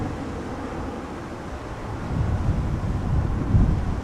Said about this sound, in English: Now the wind is definitely not slowing down,